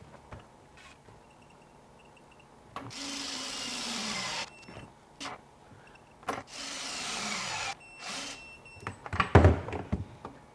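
A DeWalt DCF901 XTREME 12V brushless 1/2-inch impact wrench tightening to 450 foot-pounds, running in two bursts of loud, close rattling hammering, with clanks and handling thuds between the bursts and a sharp knock near the end.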